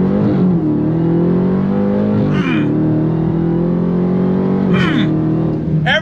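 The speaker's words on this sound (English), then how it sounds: "let's go on throttle again, because that's what we do. We got the bulge, we got the sound." A 2023 Dodge Charger Jailbreak Hellcat sedan's engine accelerating hard on throttle, a loud sustained roar with rising pitch that sweeps through gear shifts, heard close throughout with brief excited voices over it.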